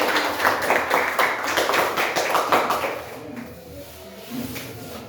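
A classroom of students claps for the first group, a quick run of many hands clapping close and loud for about three seconds before it fades into the quiet murmur of the room.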